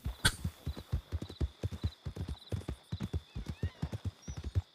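Horse hooves clip-clop in a steady, even trot through a video game stable world, the beats close and clear with a brief sharp burst near the start.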